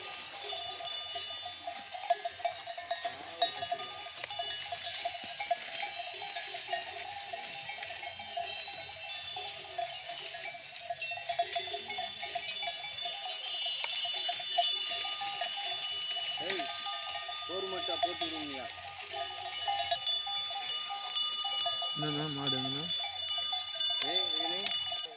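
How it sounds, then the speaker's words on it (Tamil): Hill cattle wearing cowbells near Theni: irregular clanking bells sound throughout, with occasional animal calls and people talking in the background over a steady outdoor hum. "மாடுங்க"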